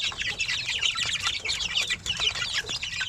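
Young chicks and growing chickens on a farm, a busy chorus of high peeping and clucking close by, continuous and overlapping, with a faint rustle of wings.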